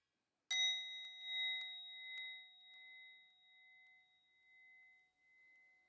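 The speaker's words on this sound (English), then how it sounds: "I will begin our practice of stillness here in God's presence by ringing the bell" A meditation bell is struck once and rings out with a clear, sustained tone that slowly fades over several seconds in near silence, with a few faint taps after the strike.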